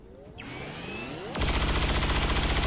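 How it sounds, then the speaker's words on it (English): Weapon fire in the XCOM 2 video game: a quieter whine gives way to a loud, dense burst of rapid repeated shots that runs to the end, with no talking. "I'm going to shoot that thing in its face"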